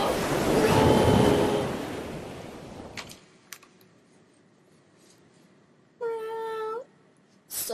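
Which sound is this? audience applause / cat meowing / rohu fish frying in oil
cat meowing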